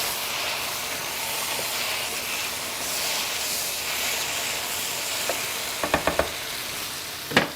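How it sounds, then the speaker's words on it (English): Chicken curry with coconut sizzles steadily in a pan while it is stirred, with a few sharp scraping knocks near the end and no talking. "Just give this a stir."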